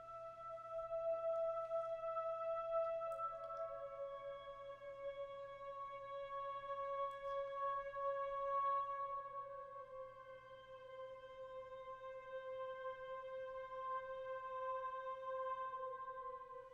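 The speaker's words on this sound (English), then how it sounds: "I added a choir. This is kind of the last minute addition." Sustained choir voices from a sample in Spitfire LABS, soft chords held with a long reverb tail and one gentle shift in harmony, quiet and smooth, no talking.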